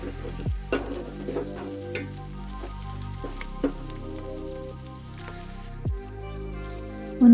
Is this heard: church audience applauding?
no